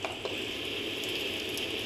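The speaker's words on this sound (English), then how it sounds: "This one is a storm." A Hatch Rest Go baby sound machine plays its storm setting, a steady broad hiss of rain-like noise with faint crackles and a couple of soft bumps near the start, constant and close with no voices.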